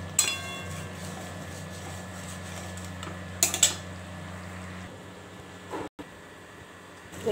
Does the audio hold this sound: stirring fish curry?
yes